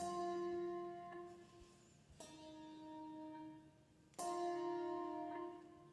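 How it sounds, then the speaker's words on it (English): Handbells from a bell choir ring out in bright, sustained tones, with three separate strikes that each fade or are damped short, quiet and fairly close. "So that would be ringing and damping the bells."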